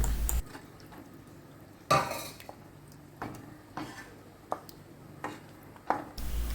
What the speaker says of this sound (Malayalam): അതും കൂടി നമുക്ക് ഒഴിച്ച് കൊടുത്തിട്ട് ഇതിനെ നന്നായിട്ടൊന്ന് ഇളക്കി യോജിപ്പിച്ചെടുക്കാം